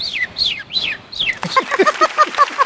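On a Malayalam comedy stage show, a mimicry artist imitates a hen, opening with four high, falling chirps and breaking into a quick, rapid run of clucking notes, close and fairly loud.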